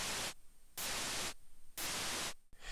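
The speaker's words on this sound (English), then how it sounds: "you can hear that that is just noise, but it does kind of simulate that kind of snare sound" 8-bit synth noise channel standing in for a snare drum: loud bursts of harsh white noise in a slow repeating pattern with short gaps between, no talk.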